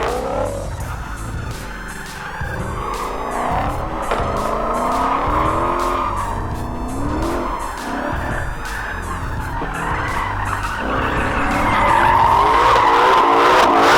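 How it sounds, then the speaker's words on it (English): Modern Mustangs do burnouts at a SEMA show display, with loud, continuous tire screeching over a roaring engine. The squeal wavers in pitch and swells louder toward the end. "they had a show area with modern Mustangs burning rubber all day"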